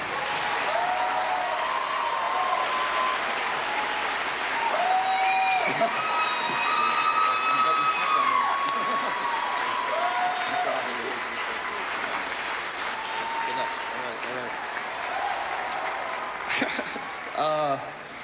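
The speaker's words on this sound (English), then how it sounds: "Please join me in a round of applause" A large audience applauds a singer receiving the Trevor Hero Award, long sustained clapping with cheers and whoops, loud and steady before tapering slightly near the end.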